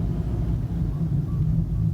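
Petrol engine of a Nissan Note e-Power running to charge the battery while driving, a steady low rumble heard from inside the car.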